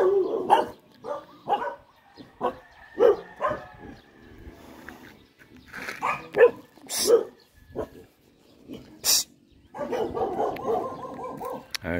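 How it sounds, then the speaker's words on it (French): Several village dogs bark in short separate bursts, near and fairly loud, at a rural spot in Mindoro, Philippines, with banana trees and rice fields around, plus a few yips and a stretch of busier noise near the end. "Des chiens partout."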